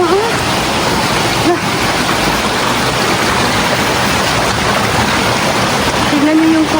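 A mountain waterfall fed by a strong-flowing natural spring gives a loud, unbroken rushing roar that fills the scene. Faint voices come and go beneath the water's hiss.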